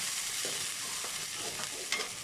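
Onion and green chili fry in castor oil in a pan, a soft steady sizzle broken by several scraping stirs of a spoon, close up and without talk.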